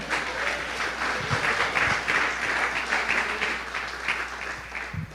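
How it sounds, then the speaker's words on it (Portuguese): A church congregation gives a loud, sustained round of applause during a worship service, dense clapping filling the space without pause and easing slightly toward the end. "Dê uma salva de palmas para Jesus."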